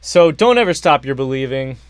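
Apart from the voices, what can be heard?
No everyday noise stands out behind the speech.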